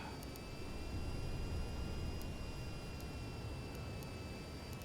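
A large aircraft's engines roar steadily while it lowers onto an oil rig helipad in the VTOL VR flight game, a continuous broadband rumble with thin whining tones above, with no talk.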